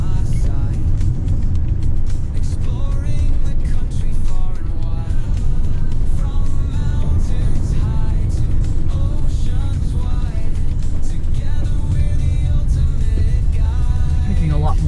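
An RV descends Wolf Creek Pass in Colorado with heavy braking, giving a loud, continuous road rumble and engine drone with steady wind and cabin noise throughout and no talking.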